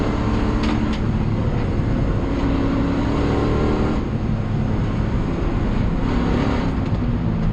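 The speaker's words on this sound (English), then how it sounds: "I must say I do like the V8. I like the sound, I like the torque." V8 race car engine at Winton circuit, loud and close, a sustained heavy roar with throttle swells and brief dips between shifts, filling the whole stretch without voices.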